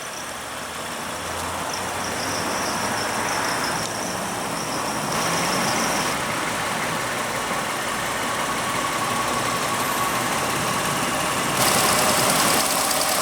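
A 2016 Lexus ES350's 3.5-liter V6 idles in a steady, moderate hum that holds even throughout, with no talking over it.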